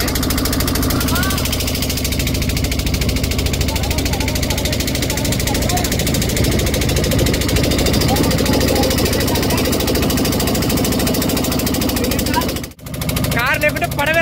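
A motorboat engine drones steadily and loudly on the Sharavathi river backwaters at Honnavar, holding an even hum throughout before a brief dip near the end.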